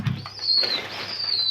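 Pigeons flap their wings close by in a short fluttering burst, with a faint high call over it.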